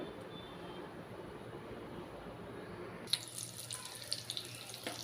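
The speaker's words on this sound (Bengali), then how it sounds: "এইবার একটা একটা করে এই সিঙ্গাড়া তেলের মধ্যে ছেড়ে দিচ্ছি" Popcorn singara are dropped one at a time into a shallow layer of lightly heated oil. A faint, steady sizzle hisses quietly, with a few small pops and crackles in the final seconds and no voices.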